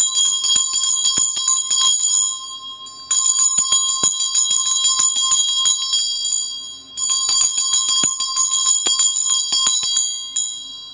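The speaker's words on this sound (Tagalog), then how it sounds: "I-ring ko lang yung bell, guys, ha." A small handheld bell rings in three long bursts of rapid, bright repeated strikes, clear and close, with short pauses between bursts and no talking.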